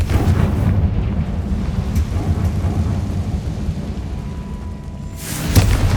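A Confringo fire spell bursts in Hogwarts Legacy, a loud, rumbling blast that rolls on as a dense, crackling roar for several seconds before a brighter burst near the end.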